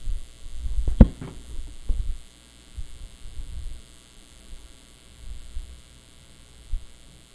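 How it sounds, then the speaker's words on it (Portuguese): An electric fan runs close by with a low, steady hum and hiss that holds throughout, with a few soft knocks and bumps near the start. "é o meu ventilador aqui que faz um barulhão"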